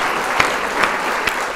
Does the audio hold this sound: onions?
no